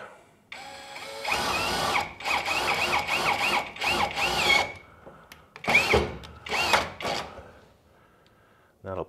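A power drill whirs in repeated short bursts, pausing between each as self-tapping screws are driven into a 1968 Volkswagen custom car body, close and fairly loud.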